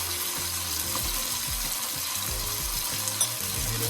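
Chicken pieces frying in a pot for Jamaican brown stew chicken over medium heat, giving a steady, dense sizzle with low clanks and scrapes as the pieces get moved around, close and continuous, no talking.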